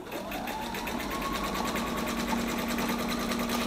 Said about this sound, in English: Okay, so I'm gonna sew